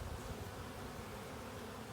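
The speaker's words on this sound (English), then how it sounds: "So I'm gonna give them just a little tap." Honeybees in a package cage fill the air with a close, dense, continuous buzzing hum that stays steady and loud throughout, with no talking.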